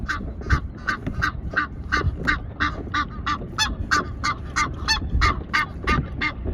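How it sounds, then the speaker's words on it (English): Ducks honk and quack in a steady repeated rhythm, about two or three calls per second, loud and close over a constant low rumble, with no voices. "Watch out, duck."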